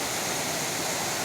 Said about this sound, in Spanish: cómo ruge. ¿Y por qué ruge? Porque tenemos aquí la cascada que os comentaba, Cascada La Tellera.